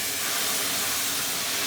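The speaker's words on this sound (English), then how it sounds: "I'm going to slowly add the probably about 2/3 of the stock in" Boiling saffron stock pours into a seafood paella pan with a steady, loud broadband hiss and rush that holds for the whole span and carries no voices.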